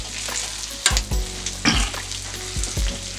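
Smoked sausage and bread frying on a steel griddle, a steady sizzle broken by several loud metallic spatula scrapes and knocks as the food is flipped.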